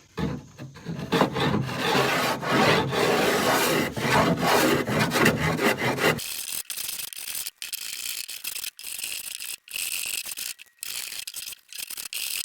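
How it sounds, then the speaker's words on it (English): Repeated wooden rasping strokes as a block plane shaves a board, loud and dense at first, then lighter, intermittent scraping passes with brief pauses. "Start off with just a block plane"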